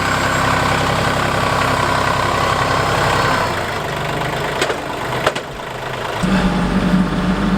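A tractor engine runs steadily while turning a horse manure compost pile, a loud close idling rumble that drops in pitch midway, with a couple of brief knocks, then settles into a lower drone.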